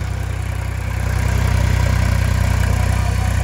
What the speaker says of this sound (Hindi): अंश जो है बहुत अच्छे तरीके से ट्रैक्टर को चला रहा है, बहुत आसान